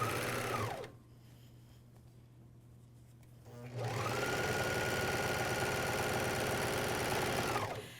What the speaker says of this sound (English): I'm going to sew down those side seams